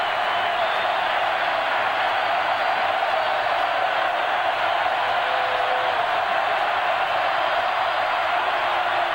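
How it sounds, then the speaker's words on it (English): A college football stadium crowd at Oregon State versus LSU sends up a sustained, even roar, loud and continuous throughout with no break. "Here comes the crowd again."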